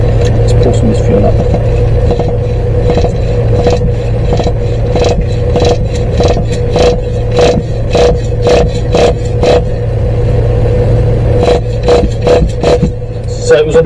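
A Team Associated NTC3 nitro RC car engine is pulled over repeatedly with its pull-starter, turning stiffly, giving a series of rhythmic scraping ratchet pulls over a steady loud background rumble, close up.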